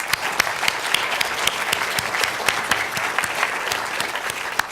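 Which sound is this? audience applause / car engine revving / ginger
audience applause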